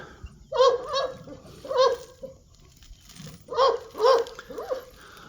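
Dogs bark in short clustered bursts, two or three at a time with pauses between, fairly close and loud against a low background rumble.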